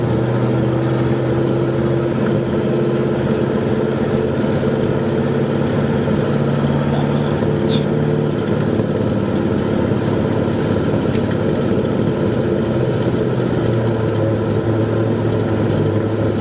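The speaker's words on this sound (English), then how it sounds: "This car has a non-original 350 V8 engine, runs really well." A 1966 Chevrolet Nova with a non-original small-block 350 V8 and Muncie 4-speed manual runs steadily at idle, its low rumble constant and close throughout with no talk over it.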